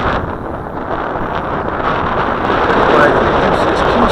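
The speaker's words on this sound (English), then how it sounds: "Fighting the wind." Steady wind roars across the microphone on a windy day near the water, a dense, loud rushing that swells slightly toward the end and continues unbroken throughout.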